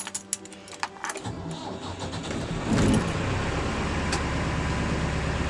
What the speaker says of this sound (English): And now we'll start the engine.